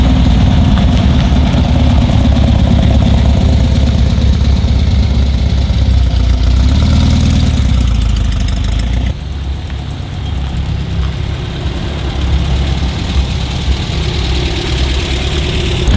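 A Volkswagen car engine idles at a VW car show, a loud, steady low rumble that carries on without a break, dropping slightly in level partway through.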